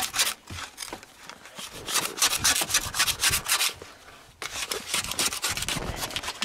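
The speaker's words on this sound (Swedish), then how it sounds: "Jag skrapar bort lite is från igår." Steady scraping of ice off a car with a hand scraper on a bitterly cold minus-24 morning, repeated rasping strokes close by, loud and rhythmic with a brief pause partway through.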